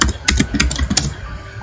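Fast typing on a PC or laptop keyboard, a close, loud run of clustered key clicks for over a second with some sharper strikes standing out, no voices.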